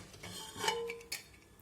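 A cooled pressure cooker lid is worked open in a kitchen, giving a couple of quiet metallic clinks and a brief ringing scrape, close and faint, with no talking.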